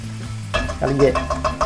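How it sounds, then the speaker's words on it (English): Onions drop into a hot cast iron pan for chili and burst into a loud, close sizzle after a brief quiet start, with stirring scrapes running through the frying. "now we're gonna add those onions"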